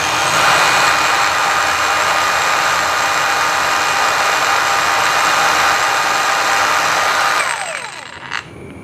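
Hujia cordless brushless angle grinder running steadily at speed setting 1 (about 5,600 rpm), a loud, continuous high whine that holds level for about seven seconds, then spins down and fades, with a short tap near the end.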